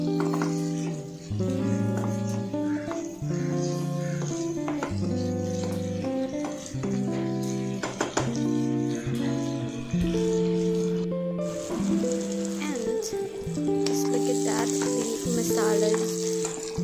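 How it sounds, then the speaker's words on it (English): Meat with meat masala sizzling in a pan, a steady frying hiss with occasional stirring, under loud background music. "I added meat masala, and just mix it well and let it cook for some time"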